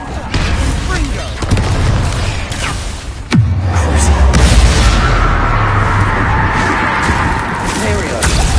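Confringo blasting spell in the video game Hogwarts Legacy: a booming explosion erupts mid-clip amid continuous battle noise and spell effects, with a deep rumbling tail.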